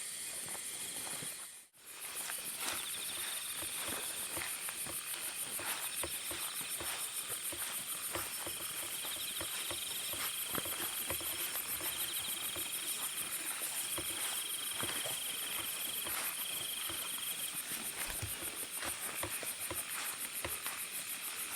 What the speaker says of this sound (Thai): ได้ยินเสียงกบเสียงเครียดห้องบ่ทุกคนนั่นแหละ